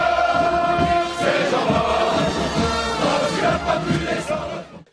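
Dense carnival crowd at the Dunkirk Carnival in France, a loud continuous roar of many voices and shouts filling the whole stretch, fading at the very end.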